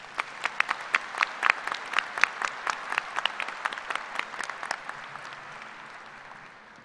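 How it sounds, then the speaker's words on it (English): Audience applause at a university graduate school commencement ceremony, a dense burst of many hands clapping that swells and then gradually fades toward the end. "Would you join me in giving a round of applause?"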